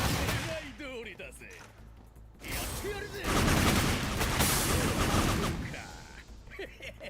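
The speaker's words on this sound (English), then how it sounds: "I see you shooting at me." Bursts of gunfire in a video game, rapid shots and crackling volleys mixed with game effects and music, fairly loud, with a person talking over parts of it.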